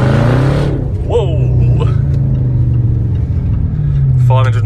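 A 575-horsepower Jaguar XJR roars loudly as it accelerates hard down a track straight chasing a Caterham, engine note climbing through gear changes with steady wind and road noise underneath.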